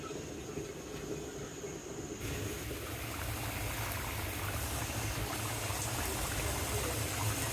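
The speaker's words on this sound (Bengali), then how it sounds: "কি সুন্দর বলক উঠতেছে" Hilsa fish curry with bean seeds bubbling in a covered pot, a steady low simmering rumble with a soft continuous hiss that swells slightly after the first couple of seconds.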